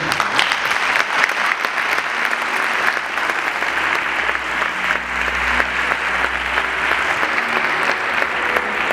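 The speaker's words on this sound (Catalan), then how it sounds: "aquest fort aplaudiment és per a vosaltres" A crowd gives strong, sustained applause for the Falleres Majors at their Fallas exaltation ceremony in Xàtiva, a loud, dense clapping that fills the hall continuously with no voices over it.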